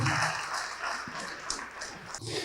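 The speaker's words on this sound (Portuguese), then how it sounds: "Vamos aplaudir mais ao nome de Jesus." A church congregation applauds during a worship service, a wash of many hands clapping steadily across the hall, with a brief dog-like bark or shout and some voices in the mix.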